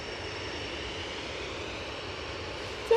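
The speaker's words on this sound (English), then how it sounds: "Touching down from London Heathrow." An airliner arriving from London Heathrow touches down at Manchester Airport, a steady broad engine roar held at even loudness throughout, with a brief louder bump at the very end.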